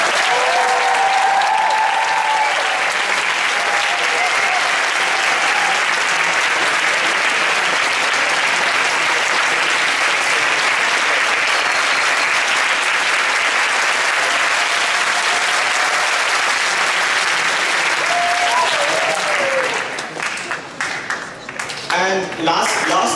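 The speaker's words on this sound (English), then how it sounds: "A big round of applause for them." A large crowd gives sustained, loud applause for a group of guest speakers at an event, dense clapping continuing for about twenty seconds before thinning out into scattered claps at the end.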